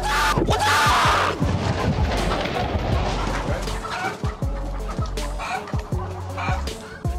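Chickens clucking in a busy, noisy coop as a man tries to lift hens off their eggs, with a dense run of overlapping squawks and clucks that stays loud throughout.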